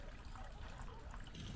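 Water spilling over a leaky weir from a farm pond into an old erosion gully during rain, a steady close trickle and splash with no talk.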